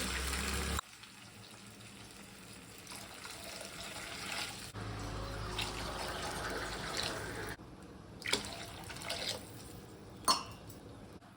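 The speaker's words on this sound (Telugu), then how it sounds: "ముందు నాలుగు గ్లాసులు నీళ్ళు పోసుకున్నాము" Steady rush of four glasses of water pouring into a pot for upma, with a change in tone partway through and a few small clinks near the end.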